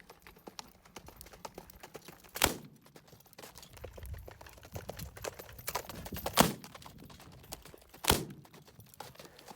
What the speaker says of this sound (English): what are the results shooting the carbine mounted at the Gallop?